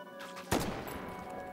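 Gunshots in the VR game H3VR during a snowy shoot-out: one sharp, fairly loud report followed by a ringing decay, with fainter shots just before it.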